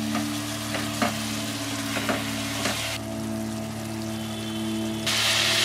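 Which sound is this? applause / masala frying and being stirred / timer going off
masala frying and being stirred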